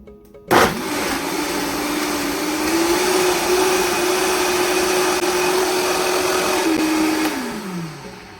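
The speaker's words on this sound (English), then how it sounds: "So I'm gonna start blending." A blender starts abruptly and runs at a steady high whir, blending walnuts and water into walnut milk, loud and continuous for several seconds before winding down at the end.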